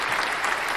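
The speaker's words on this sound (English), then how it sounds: "Y'all go ahead and clap it up for Extraordinaire" An audience applauds in a short, dense, close burst of clapping under a moment of praise for a guest called Extraordinaire.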